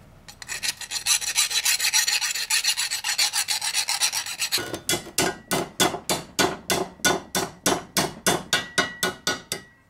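A metal exhaust manifold pipe for a Fiat 600 turbo being filed by hand, first as continuous fast rasping, then as about twenty distinct, evenly spaced rasping strokes, close and loud, with no talk.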